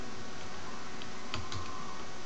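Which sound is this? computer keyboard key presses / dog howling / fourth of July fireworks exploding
computer keyboard key presses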